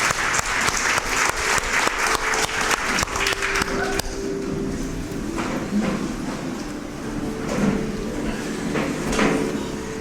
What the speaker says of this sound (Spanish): Bríndale un fuerte aplauso a nuestro Dios